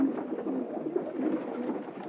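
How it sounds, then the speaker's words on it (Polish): Soft, low cooing from a long-distance racing pigeon kept for 1000 km marathon flights, a gentle murmuring coo repeated close by over a quiet background. "Tutaj mamy kolejnego gołąbka z moich gołębi dalekodystansowych."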